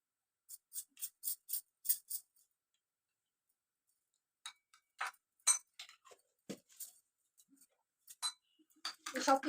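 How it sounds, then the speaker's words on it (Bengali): A spoon clinks quickly against a bowl while mixing honey and aloe vera gel into a homemade face wash, a run of light taps at the start before a voice talks. "এই সব কিছু আমরা ভালো করে গুলে নেবো।"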